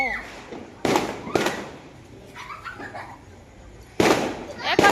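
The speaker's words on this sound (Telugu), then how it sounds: "అసలే టపాకాయలు వెళ్తాను" Four sharp Diwali firecracker bangs burst nearby, loud and uneven in spacing, with people talking in the gaps between them.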